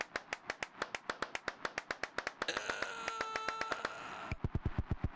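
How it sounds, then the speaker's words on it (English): Steady rhythmic clapping in a horror video game, about four claps per second, as the player walks around a church, continuing throughout over a bright electronic chime-like game tone in the middle section. "Wait, I just walk around the church and clap?"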